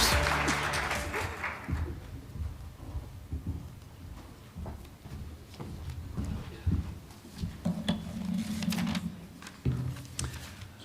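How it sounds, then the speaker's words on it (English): A pitch competition audience applauds its contestants, a dense wash of clapping that swells, thins, then builds again over about eleven seconds, heard from within the room. "Another big round of applause for all of our contestants"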